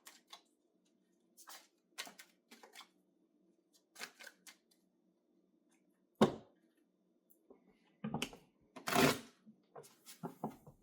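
Tarot cards being shuffled in bursts of crisp riffling and slapping, with quiet gaps between, close and fairly soft, ending in a louder flurry of shuffles.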